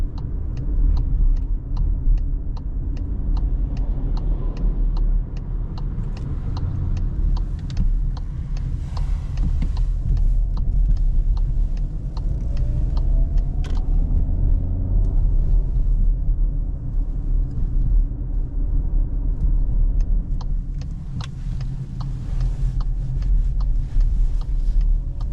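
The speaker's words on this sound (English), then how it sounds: "Now I will push it so that we can also accelerate." Cupra Terramar 1.5 eTSI, 150 HP, accelerating on a night drive, heard from inside the cabin as a steady engine rumble with road noise and light ticking, with no talking.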